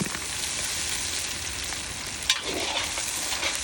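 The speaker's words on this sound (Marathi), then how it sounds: "2 मिनिटे टोमॅटो पेस्ट आपण व्यवस्थित परतून घेऊ कच्चापणा जाऊ तोपर्यंत" Tomato paste with ginger-garlic paste sautéing in a pan for goat eye ball thecha fry, producing a dense continuous sizzle with occasional stirring scrapes and a short clatter just after two seconds, no talking.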